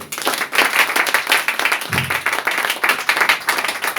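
A church congregation claps, many hands beating in a fast, uneven patter that stays loud and close throughout with a brief low thump midway.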